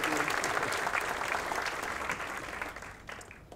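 An audience applauds at a university law awards ceremony, a loud, even wash of clapping that slowly fades toward the end.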